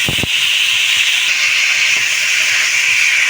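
Potatoes, pointed gourd and vegetable stems being sautéed in a pan, a loud, steady hiss of frying that holds unbroken after a short knock at the start, close and without talking.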